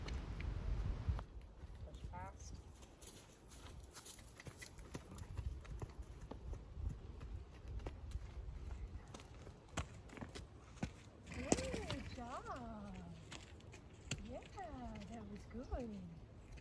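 A Mustang gelding's hooves thud rhythmically on the ground during a canter transition, faint and fairly distant, while a rider talks at times and birds chirp in the background.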